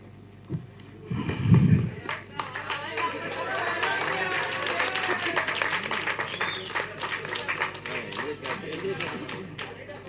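Audience at a film music launch for Sooriyanum Sooriya Gandhiyum clapping in a brief burst, followed by sustained crowd noise and scattered voices in a large hall.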